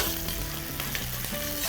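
Ginger slices, scallion pieces, garlic slices and dried chili segments sizzle in hot oil in a wok, a steady close crackling fry with no talk over it.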